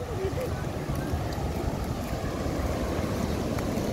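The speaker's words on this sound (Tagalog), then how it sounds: "Ayan na yung alon, oh." Sea waves rolling onto a black sand beach, a steady broadband wash of surf and wind filling the scene, continuous and fairly close with no clear individual breaks.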